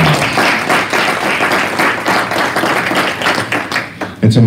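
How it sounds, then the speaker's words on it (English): A keynote audience breaks into a round of applause: dense, loud, continuous clapping that fills the whole stretch and carries a little crowd noise beneath it. "Can we give Dr. Moore a round of applause?"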